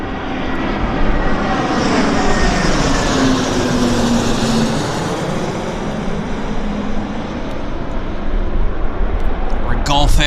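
An airliner nicknamed the baby VC-10 passing overhead at Vancouver airport, a loud sustained jet roar with a slowly shifting whine, while someone talks over it throughout.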